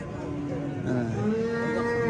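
Cattle at a livestock market moo in a long, drawn-out, tonal low, close and loud over a steady crowd murmur.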